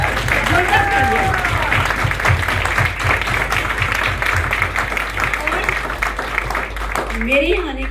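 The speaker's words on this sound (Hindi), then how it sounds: "एक बार जोरदार तालियां अपने लिए बजा लीजिए, जोरदार तालियां।" A large audience gives loud, sustained applause for themselves at a Modicare LEAP program event. Dense clapping runs the whole time, with some voices mixed in.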